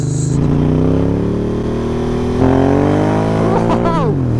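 A new motorcycle's engine revs hard nearby, its loud throaty note climbing steadily, surging again midway, then dropping off sharply at the end.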